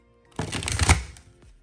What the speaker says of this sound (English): I don't know if I'll be able to comfortably riffle shuffle this.